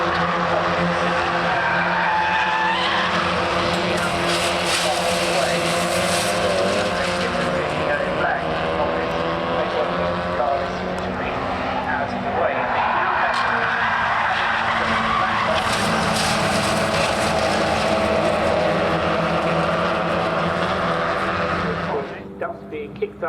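Race cars at Donington Park's old hairpin during a BRSCC and TCR UK race meeting, engines roaring and tyres skidding continuously under loud excited commentary, with crowd and track noise throughout.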